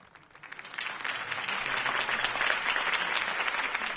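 Crowd applause after Harvey Dent's campaign speech in the Telltale Batman video game, clapping rising quickly from quiet into sustained, dense applause that holds steady to the end.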